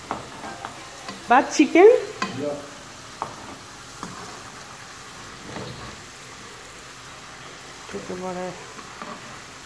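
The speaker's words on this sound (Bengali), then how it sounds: "তো আমি হচ্ছে এখন আলু ভাজতেছি।" Potato chips frying in a pan, a low, soft sizzle under a voice talking at the start, with a few stirring scrapes and quiet pops spread through the clip.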